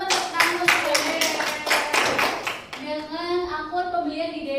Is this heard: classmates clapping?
yes